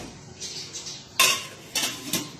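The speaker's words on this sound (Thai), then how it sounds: "เมื่อใส่โหระพาเสร็จแล้วเราก็ปิดฝาเลยครับ" A metal lid is set down on a 32-litre stockpot of water and basil, giving a few sharp clanks and rattles, the loudest near the middle and two more shortly after.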